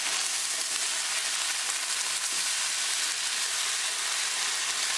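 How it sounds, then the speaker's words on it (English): Tomato sauce cooking with a spiced tadka in a pan for a fish masala gives off a steady, close, even frying sizzle and hiss that holds without a break, with no voices. "Cook tomato sauce along with tadka for 1 minute."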